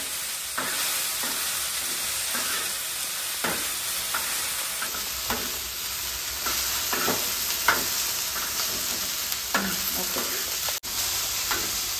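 Okra frying in oil in a pan makes a steady loud sizzle throughout, with repeated scraping stirs of a spatula breaking through the hiss.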